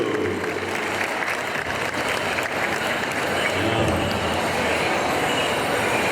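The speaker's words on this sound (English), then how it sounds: "One more time, let's have a round of applause for these Southern Straight dancers, gentlemen." Sustained crowd applause for Southern Straight dancers at a Mall of America pow wow exhibition, broad clapping rolling on without pause in a large echoing indoor space.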